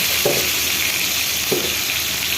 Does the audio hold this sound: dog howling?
no